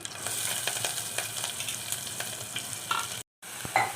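Onions and green chillies fry in oil with mint and curry leaves, a steady close sizzle with intermittent stirring scrapes, briefly cut to silence near the end before the crackling resumes.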